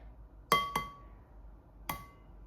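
An egg knocked against a hard edge while making pancake batter: two quick sharp taps, then a pause and a third crisp tap, close and clear with no talking.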